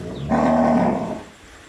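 A cow lying down on a farm during artificial insemination lets out a single close, full-throated moo lasting about a second before fading into quiet surroundings.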